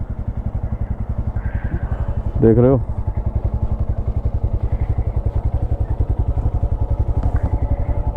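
A parked motorcycle idles at a halt beside the Agra–Lucknow Expressway, its close, steady thumping pulse running the whole time, while someone briefly speaks over it.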